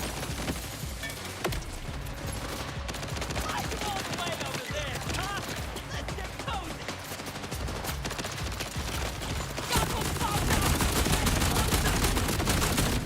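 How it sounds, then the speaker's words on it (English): A Spud Gun firing potatoes in Borderlands 4 sounds as rapid, continuous gunfire with heavy repeated shots and game effects, loud and close throughout and growing denser toward the end. "I think I'm shooting potatoes."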